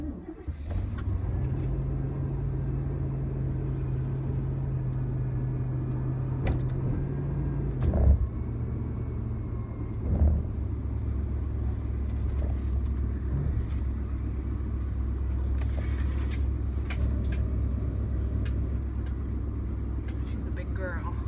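A GMC campervan drives around a neighborhood, its low steady engine and road rumble continuous throughout, with a couple of brief knocks partway through and a speaking voice at times over the drone.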